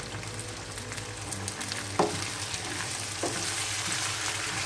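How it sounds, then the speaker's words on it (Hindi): Fresh peas and potatoes fry in a pan with a steady close sizzle, and a couple of sharp utensil knocks and scrapes sound as the vegetables are stirred. Nobody speaks. "इसको हम थोड़ा भून लेंगे 4 से 5 मिनट के लिए, ताकि मटर जो है वो हमारे थोड़े फ्राई हो जाए।"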